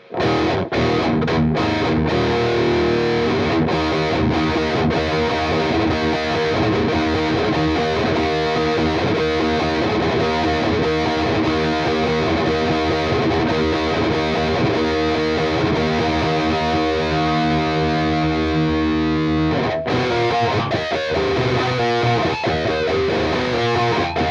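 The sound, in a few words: electric guitar through JHS OC71 germanium boost, Mesa Badlander amp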